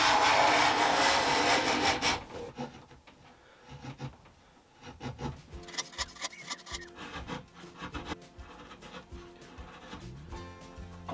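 A card scraper drawn across wood gives a loud rasping scrape at first, followed by a run of shorter scraping strokes and rubbing sounds taking off thin shavings.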